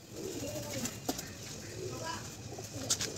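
Pigeons cooing softly among a flock gathered at a home loft, low throaty calls repeating with a few wing flaps as someone talks over them.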